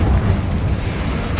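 A loud, booming fiery blast from the Confringo spell in the Hogwarts Legacy video game, a single sustained deep roar filling the short moment.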